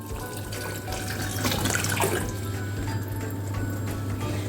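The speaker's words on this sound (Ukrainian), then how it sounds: "зараз ми сюди додаємо 100 мг оцту" Vinegar poured into a boiling marinade for eggplants, a steady trickling splash over a constant low hum, close and uninterrupted by speech.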